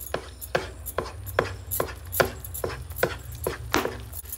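Moong dal halwa is roasted in ghee in a pan. A spoon scrapes and taps the pan in a steady rhythm of sharp strokes, roughly two per second, close up and with no talking.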